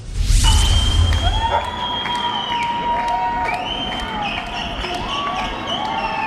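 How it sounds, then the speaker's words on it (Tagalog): Residents of apartment buildings in Israel shouting and cheering from balconies, with sustained high whoops and held cries layered over a broad crowd roar, loud and continuous with no talk. "Napuno ng hiyawan ng mga residenteng apartment buildings niyan sa Israel"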